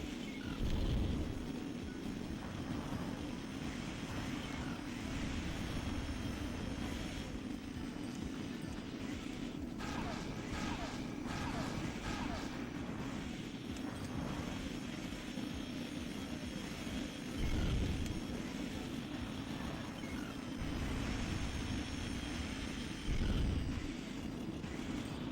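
Enemy fighter planes drone overhead in the combat flight game Ace Combat 2, a continuous roar of aircraft engines that rises and falls slightly throughout without any voices.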